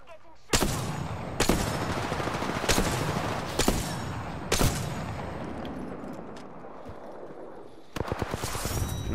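Gunfire in the Apex Legends battle royale game, a series of loud, sharp shots in spaced bursts, about six distinct blasts with a closing volley, echoing tails between them and no talk.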